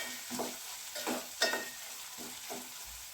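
Lentils (dal) sautéing in a little oil, with a soft sizzle broken by rhythmic scraping stirs roughly every second, close by and with no talking.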